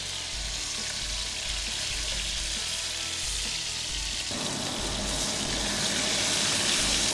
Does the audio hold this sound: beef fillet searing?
yes